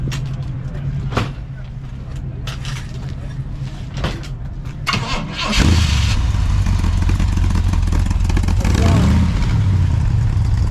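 The rear engine of the one-off twin-engine, 900 hp Yugo fires up at a car show. Idle rumble gives way to a loud, steady, deep running roar that holds to the end.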